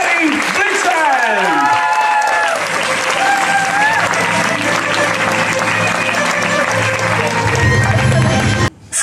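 Loud, sustained applause and cheering from the audience at the Blogerka roku 2014 awards ceremony, with music and a voice layered over the clapping until it cuts off abruptly near the end.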